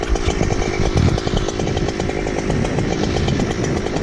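A Husqvarna chainsaw cuts into a 70-foot ash tree during felling at a ranch, its engine roaring loud and steady at close range for the whole stretch, with rapid buzzing pulses and no talk over it.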